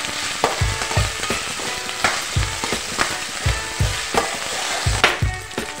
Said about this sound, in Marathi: एक चम्मच आलं लसूण पेस्ट टाकून घेणार आहे। ते सुद्धा चांगल्या प्रकारे मिक्स करून घेणार आहे।